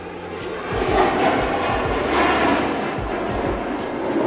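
A Russian MiG-35 fighter jet roars overhead, a loud sustained broadband engine rumble that swells after the first second and holds steady, with no voices.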